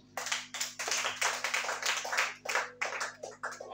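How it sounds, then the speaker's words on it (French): Church congregation clapping rhythmically in unison during a worship service, a steady run of sharp hand claps heard close and fairly faint, with no talking. "Acclame le Seigneur Jésus"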